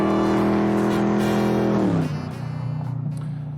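A Ford Mustang V8 engine roars loud and close with a deep sustained rumble, then drops in pitch as it eases off into a lower, rougher idle.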